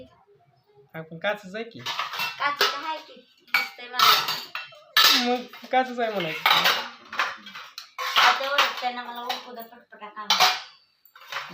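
Kitchen pots and dishes clatter and clink repeatedly close by, mixed in with ongoing talking.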